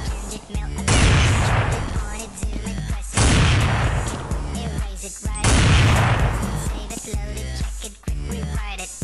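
Heavy, booming AWP sniper rifle shots from Counter-Strike fire in quick succession, three or four loud reports spaced roughly every two to three seconds, each followed by a short mechanical bolt-cycling rattle.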